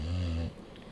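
A sick English bulldog breathing in its sleep, a loud, close snoring rasp on the inhale that stops abruptly halfway through, followed by quiet breathing.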